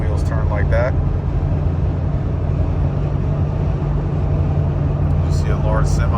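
A restored Jeep Cherokee XJ drives and takes a turn, its steady engine and road rumble heard from inside the cabin, with someone talking over it throughout.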